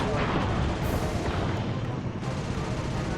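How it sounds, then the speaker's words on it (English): Grenade blasts from the video game Sly 2: Band of Thieves, a dense, loud rumbling roar that fills the whole clip with booming, overlapping bursts and no clear gaps. "Don't upset me with your grenades. Stop exploding."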